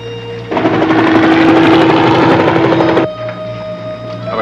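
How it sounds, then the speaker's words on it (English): A loud helicopter rotor thumps in a fast, rhythmic chop for a couple of seconds, then drops away to a quieter engine hum. "There's a helicopter directly overhead."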